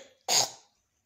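A single short, rough cough, close and isolated, followed by silence.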